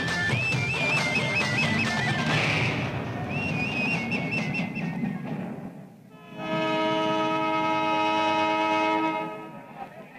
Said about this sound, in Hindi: अरे ट्रेन छूट रही है